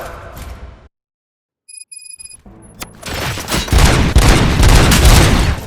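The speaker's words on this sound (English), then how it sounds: "Gunshots? What's going on?" Sudden bursts of rapid gunfire in the video game Robocop: Rogue City erupt and build into loud, sustained shooting with booms, following a short electronic beep sequence and a quiet gap.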